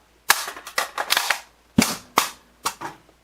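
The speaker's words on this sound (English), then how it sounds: "you actually use the magazine to hit against the mag release there, and it kicks the old one out" A handgun magazine is whacked against the magazine release to kick the old one out, giving several sharp, loud metallic impacts in quick uneven succession, close by with no talk.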